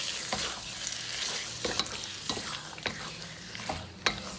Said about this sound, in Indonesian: Kita oseng-oseng sebentar dagingnya ya